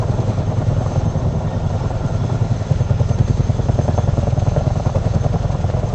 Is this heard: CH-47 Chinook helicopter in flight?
yes